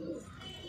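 A Punjabi Malwai pigeon gives a short, soft coo, faint and brief against a low background hum.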